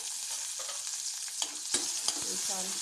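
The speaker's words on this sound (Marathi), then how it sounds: "परतून घ्यायचा आहे कांदा" Finely chopped onion sautés in a hot pan with ginger-garlic paste and asafoetida, a steady close sizzle and fry with a few sharp spoon scrapes and clinks as it is stirred.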